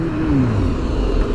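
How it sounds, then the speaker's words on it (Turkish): A Kawasaki Z900 948cc motorcycle braking hard, heard as a loud low engine rumble with a descending tone as the bike slows, close and continuous, with no talking. "ciddi bir fren sesi duymuşsunuzdur, fren sesini"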